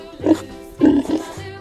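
A pig makes two low, throaty oinking grunts close by: a short one, then a longer, rougher one with a brief trailing snort.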